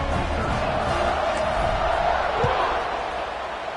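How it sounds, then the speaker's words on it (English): A football stadium crowd at a Bishop Sycamore vs USF game roars loudly and continuously, a broad wash of cheering with whoops that keeps an even level before easing slightly near the end. "this crowd now ready to get behind them"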